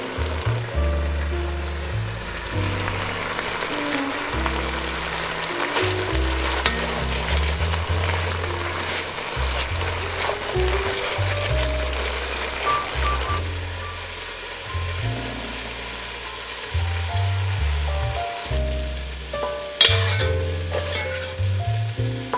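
Butter and melting Parmesan sizzle in a pan with a steady, crackling hiss that runs throughout, over a rhythmic low musical backing, with a few sharper pops near the end.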